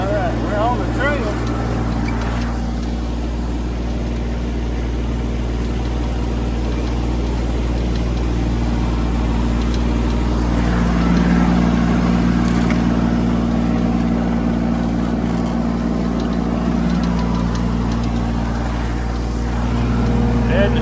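An engine revs with the throttle opened up while seed is spread across a pig pasture on a mountainside trail, a loud, steady droning close by with a person talking over it.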